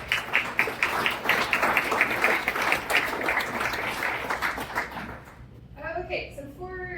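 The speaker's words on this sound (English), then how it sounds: "So big round of applause, and thank you to Kyle" Audience applause at a Cincinnati AI meetup, rapid clapping from a room of people for about five seconds, fading out before a voice begins speaking.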